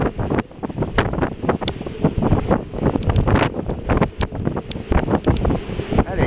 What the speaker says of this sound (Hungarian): Elég szeles idő van.